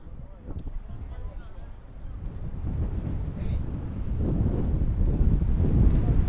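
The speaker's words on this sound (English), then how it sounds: "that wind is really starting to kick up here" Gusty wind buffeting the microphone at an outdoor college baseball game, a low rumbling roar that builds louder toward the end, under a commentator's play-by-play voice.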